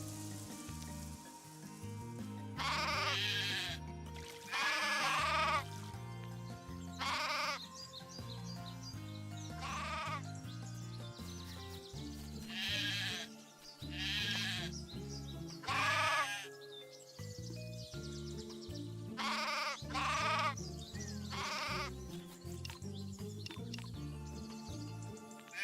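Sheep bleat repeatedly in a farming video game, a series of short wavering cries coming one after another over a steady bed of game music and ambient hiss, fairly close and prominent, with no talking.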